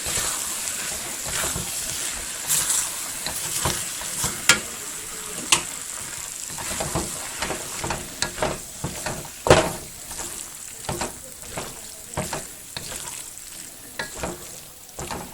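Noodles stirred into chuck wagon in a pan, with repeated spoon scrapes and clacks over a steady low sizzle, uneven in rhythm and fairly close.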